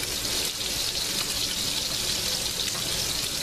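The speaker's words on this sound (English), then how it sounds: "cup and a half of water." A cup and a half of water poured into a pot for cooking rice, a steady broadband splashing gush lasting the whole stretch, close and fairly loud with no talking.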